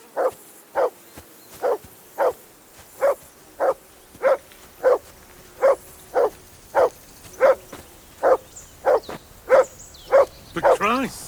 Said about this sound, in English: Call off that damn dog Mutt!